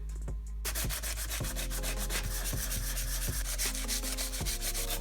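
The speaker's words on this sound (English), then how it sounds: "blocks are better at evenly sanding a flat surface, like this cover" Steady rhythmic scraping of a sanding block rubbing back and forth across a flat aluminum engine cover, close and continuous with regular strokes.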